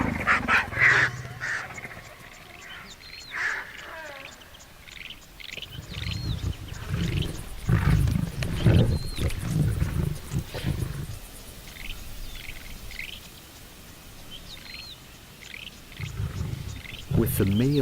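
Lions roar and snarl over a carcass, deep rumbling growls swelling and fading. Birdcalls chirp throughout and soft background noise runs under them.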